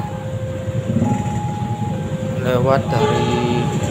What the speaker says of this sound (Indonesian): Ini adalah kereta Gumarang